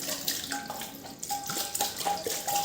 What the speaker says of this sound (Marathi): भरताना थोडंसं बाटलीवर सांडवतेच पाणी